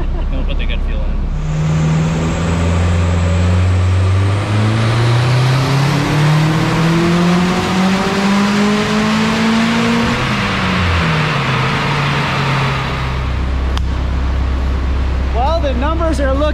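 A car engine on a dyno running 91 pump gas revs hard in a long pull, the pitch climbing steadily then dropping off as it winds down, loud and close with some talk underneath.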